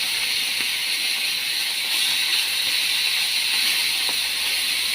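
Fish fry in a pan with a steady, even hiss of hot oil, continuous and moderately loud, with no voices.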